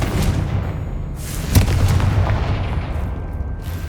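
Confringo fire-blast spell in Hogwarts Legacy: a booming, rumbling blast with heavy low-end thumps and crackling debris, sustained over several seconds at fairly close, loud volume.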